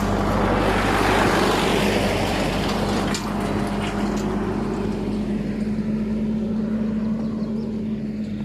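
A tractor passes behind, making a loud, steady engine drone with a low hum. The sound fills the whole stretch and fades only slightly toward the end, with no talking.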